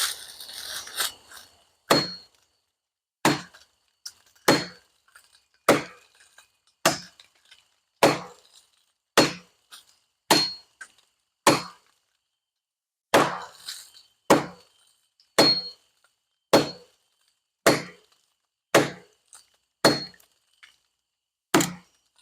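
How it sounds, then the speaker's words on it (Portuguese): Bravo and Bellotto machetes chop into dry, thick wood in a long series of about fifteen sharp, loud strikes. Each crack rings briefly and the strikes come at a steady pace, with quiet between them. "Eu ia dar 10 batidas, mas eu acredito que eu vou ter que dar 15, porque a madeira está bem seca e ela é bem grossa"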